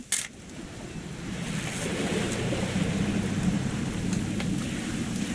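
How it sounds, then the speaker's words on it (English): Steady rain and rumbling thunder in the video game What Remains of Edith Finch, a continuous wash of downpour after a brief opening burst, with no voices. "It's gonna rain the whole weekend, isn't it?"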